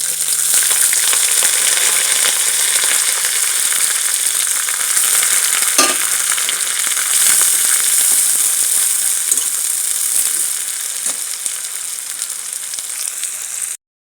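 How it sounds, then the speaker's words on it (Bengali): Steady, loud sizzling of onions frying in hot oil with whole cumin, with a brief clatter of stirring midway, continuous for the whole stretch with no talking. "পেঁয়াজগুলো ভাজা হয়ে গেছে"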